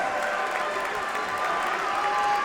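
Audience applause and cheering at a training-course awards ceremony, a continuous moderate wash of clapping from a crowd at middle distance, with some faint voices mixed in.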